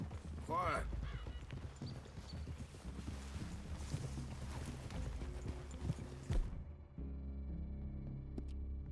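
Horses' hooves clip-clopping on the ground in the Red Dead Redemption 2 video game, a steady rhythmic plodding with a brief whinny, low hum and voices talking over it, ending abruptly near the end.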